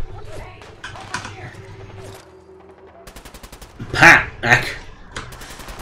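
Sniper gunfire in Fallout 4 gameplay: a short run of sharp rapid cracks, then two loud close bursts, with a player talking over the game sounds.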